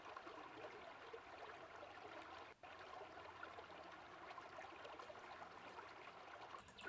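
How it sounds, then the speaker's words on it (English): Steady stream of water trickling and flowing as an ambient layer in a lofi beat, a continuous soft wash of liquid noise with one brief dropout midway, fairly quiet throughout. "And then I added water, stream of water."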